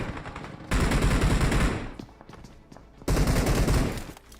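Shotgun fire in the mobile battle royale game BGMI comes as two loud, close bursts of gunfire separated by a short pause.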